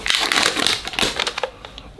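Protective wrapping is pulled off a Dell C2722DE 27-inch monitor, giving loud, close rustling and crinkling in quick bursts that thin out toward the end, with no voices.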